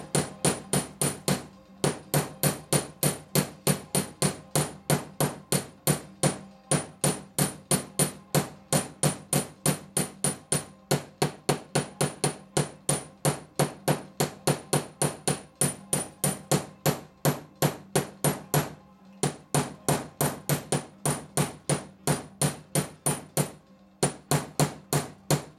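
Sustained rapid hammering on silver chain links to texture them: close, sharp metallic strikes in a fast steady rhythm, with a few short pauses between bursts.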